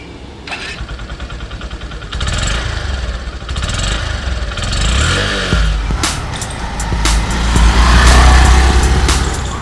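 A small Honda Shine 100 commuter motorcycle starts up and runs close by, the single-cylinder engine settling into a steady idle and then revving slightly louder toward the end.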